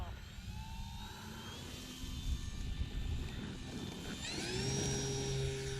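Air Tractor model airplane in flight, its engine a steady, fairly loud drone with tonal whine that rises and brightens toward the end as it nears or throttles up, with wind noise throughout.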